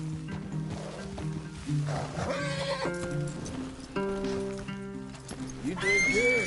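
Horses in Red Dead Redemption 2 whinny and neigh repeatedly, close and loud, with hooves clip-clopping underneath in a continuous outdoor scene.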